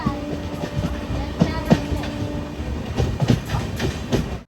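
A Mangala Lakshadweep Express sleeper-class train at a station, with a steady rumble of railcars, rhythmic clickety-clack of wheels over rail joints and a few louder knocks, carrying on continuously throughout.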